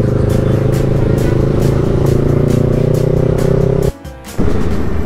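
Engine of a Kawasaki Z650 motorcycle on a night highway ride: a loud, steady drone with harmonic bands and wind rush, briefly dropping out for a moment before resuming.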